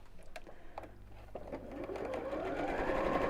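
A sewing machine runs close by, top stitching across the top of a fabric bowling bag, starting with a few clicks and then settling into a quiet, steady whirring.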